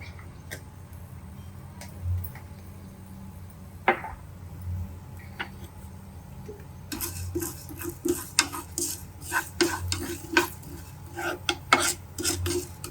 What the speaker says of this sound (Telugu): ఇవి కూడా డ్రైగానే వేయించుకోవాలి